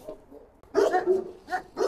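A dog barks a few times in quick, uneven bursts, close by and fairly loud, with faint whimpering sounds between them.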